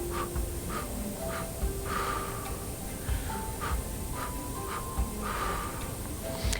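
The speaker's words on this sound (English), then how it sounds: "You can do 3 puffs to 1 blow" Rhythmic labor breathing, short sharp puffs in repeating groups of three followed by a longer blow, close and steady over quiet room tone.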